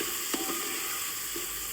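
Farali moraiya khichdi with tomato, coriander-cumin powder and salt sizzles steadily in a pan, with a few soft stirring scrapes over the continuous frying hiss.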